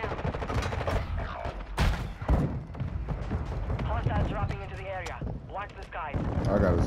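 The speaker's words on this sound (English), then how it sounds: "Mortar strike inbound now." Mortar strike explosions and rapid gunfire in Warzone 2 crack and boom in dense, repeated bursts, with players talking over the battle throughout.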